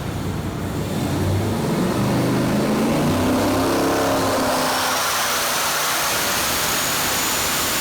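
A twin-turbo Gen 6 454 V8 roars loudly on a dyno, its pitch climbing steadily as it pulls through a run, with turbo whine over the heavy exhaust drone.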